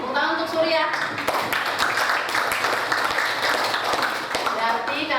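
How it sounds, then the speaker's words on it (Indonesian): Classroom of students clapping for a classmate, a burst of scattered hand claps with a teacher's voice and chatter mixed in over the top. "tepuk tangan untuk Surya"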